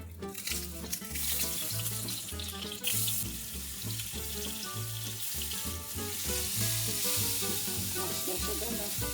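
Garlic fries in a little oil in a pan, a busy crackling sizzle with bursts of spattering and some clattering, steady and close, with no voices.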